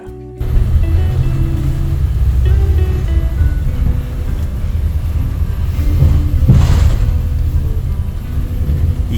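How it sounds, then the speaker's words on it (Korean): Steady loud rumble from inside a moving double-decker bus in Seoul, a continuous engine and road drone with a faint higher whine swelling partway through. "2층 버스를 타고 가고 있습니다."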